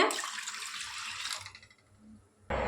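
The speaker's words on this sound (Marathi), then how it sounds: "बघा दोन ग्लास पाणी घातले" Two glasses of water pour steadily onto dal in a pressure cooker for about a second and a half, then stop; a brief splash returns at the end.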